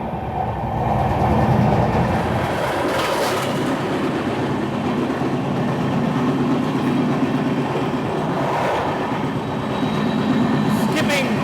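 Visakhapatnam–Mumbai LTT SF Express train running on rails, a steady onboard rumble with rhythmic clatter and occasional louder rattles; voices are heard faintly in the background.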